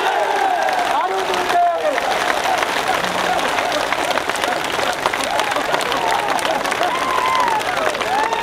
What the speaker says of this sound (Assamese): যদি কৰিম একেলগতে হাত তালিৰে সকলোৱে সমৰ্থন কৰক।